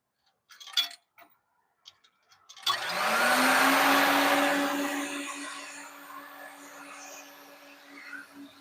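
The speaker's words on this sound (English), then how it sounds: "this vacuum is good" A vacuum cleaner switches on partway through after a few light knocks and clicks, its motor whining up to a steady, loud roar and hum that then settles slightly and keeps running alone.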